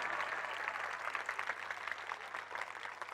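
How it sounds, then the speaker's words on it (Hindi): An audience at a speech event claps together in honour of a martyr's mother, a steady, dense wash of applause sustained throughout. "जोरदार ताली बजा दिया जाए"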